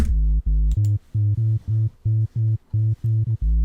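Distorted sub bass synth layer for a bass house track, playing a loud, rhythmic pattern of short repeated low stabs with brief gaps between notes, heard alone without any voice.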